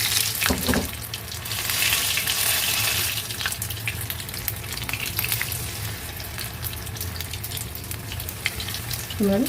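Cauliflower pakoda fries in hot oil with a loud, steady, crackling sizzle that fills the whole stretch, close up, with faint bubbling and no break in the hiss.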